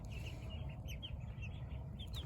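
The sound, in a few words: chickens clucking, cream legbar hens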